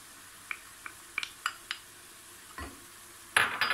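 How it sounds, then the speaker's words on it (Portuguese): Bacon and onion fry in a pan, a faint sizzle under a series of sharp utensil clinks and scrapes, ending in a louder burst of sizzling as more goes in. "coloco o bacon e deixo fritar. Em seguida, coloco a cebola,"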